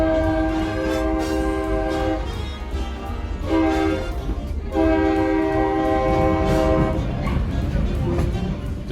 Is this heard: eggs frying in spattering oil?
no